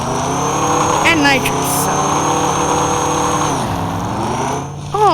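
A turbocharged truck engine with nitrous revs continuously in the off-road game Off-Road Outlaws, a steady loud drone with pitch sweeps and a dip near the end, while someone talks over it.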